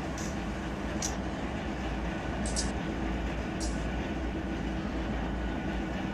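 Continuous low rumble of a train rolling past parked locomotives in the Run 8 Train Simulator III game, steady and fairly loud, with a few brief high hissing accents along the way.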